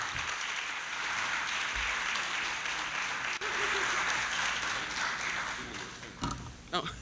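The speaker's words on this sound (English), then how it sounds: "Another round of applause for Ronnie Benoon, please." Audience applause at a college convocation in the Bronx, a dense sustained wash of clapping from a large crowd that continues throughout, with faint voices mixed in and a few louder claps near the end.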